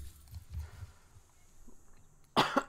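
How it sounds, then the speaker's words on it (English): A person gives a short burst of coughing near the end of a quiet stretch, loud and close, with faint low rumbles before it. "A bit of a cough, a bit ill."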